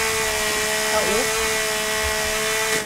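A chainsaw in the survival video game The Forest drones steadily and loudly throughout, its pitch dipping briefly once, with players talking over it.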